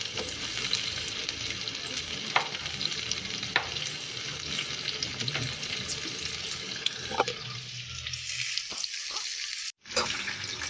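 Yardlong beans, squash and eggplant sizzle in a frying pan with a steady close hiss, punctuated by stirring scrapes and clacks, before the frying briefly quiets and a few knocks sound near the end.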